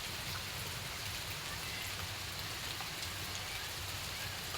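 Steady rain falling on a durian orchard, a dense continuous hiss with soft patter throughout, no voices.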